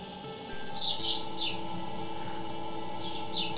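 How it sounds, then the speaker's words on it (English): Naked, helpless baby birds at a wildlife rehabilitation center giving a few thin, high chirps in short clusters over a steady background hum. "These baby birds are helpless, born naked, and cannot control their body temperature"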